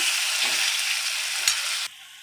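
Three tomatoes ground to a puree in a mixer are tipped onto onions already frying in a pan for a dry jackfruit sabzi, giving a loud, steady hiss and sizzle that cuts off abruptly near the end.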